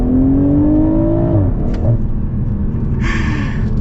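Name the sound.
2022 BMW Z4 M40i accelerating at full throttle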